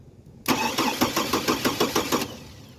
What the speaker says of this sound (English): Let's see if the starter even cranks.